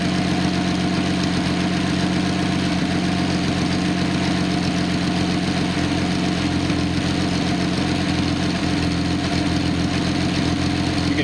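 A Nissan L28 inline-six from a 280ZX idles steadily on an engine test stand with a slight burble, running at a constant loud level throughout with no talking.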